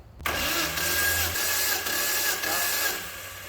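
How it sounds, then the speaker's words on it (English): A forged Nissan RB30 engine cranks over on the starter for a compression test, a loud steady mechanical whirr with a rhythmic pulse that continues without a break. "Turn the key. Keep cranking until I tell you to stop."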